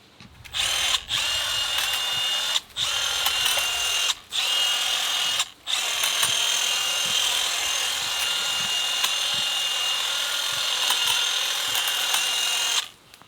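A compact Milwaukee M12 detail hedge trimmer with an 8-inch blade cutting serviceberry branches outdoors, its high motor buzz running in several short bursts then one long steady stretch, loud and close with no talking.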